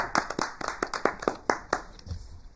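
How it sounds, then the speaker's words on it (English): Audience clapping at a speakers and leaders club meeting as a speaker is welcomed, with about a dozen distinct, fairly loud claps in an uneven rhythm that thins out and stops near the end. "Clap, clap, clap."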